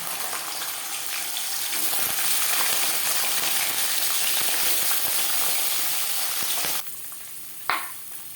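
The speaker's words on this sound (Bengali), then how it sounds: "পাঁচফোড়ন দুটো শুকনো লঙ্কা দশ পনেরো সেকেন্ড ভেজে নেওয়ার পর দিয়ে দেবো ছোলা" Chickpeas fry in a pan with panch phoron, a bay leaf and dried red chillies, giving a loud, steady close sizzle that drops away sharply near the end, followed by a brief clatter.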